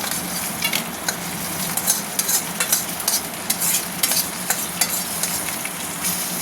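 Red amaranth greens frying with peanuts and lentil dumplings, stirred in a pan: a steady close sizzle with repeated scraping stir strokes throughout, and no voices.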